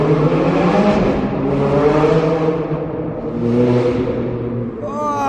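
Sports car exhaust with the valves open, accelerating hard in Monaco, a loud rising roar swelling through two surges of revs, close and continuous.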